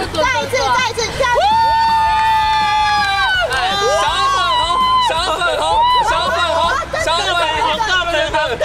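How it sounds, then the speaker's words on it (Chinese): An audience cheers and shouts during a sports-day style game show contest, with loud, excited voices rising in bursts over a busy crowd babble, near and energetic throughout. "看那个打得好不好，就看欢呼声大不大声吧"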